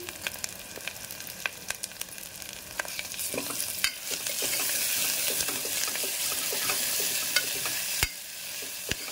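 Curry leaves and green chilies fry in hot oil for a dosakaya mutton curry, giving a steady, close sizzle that grows denser midway, with scattered clicks and scrapes from stirring throughout.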